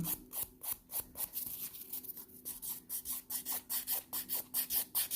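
Pink and white acrylic nails being filed with a hand file: a steady, close scratchy rasp of rapid back-and-forth strokes, evenly rhythmic and fairly quiet, with no talking.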